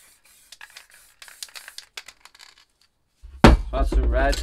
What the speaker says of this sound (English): you want to spray it pretty light inside this stencil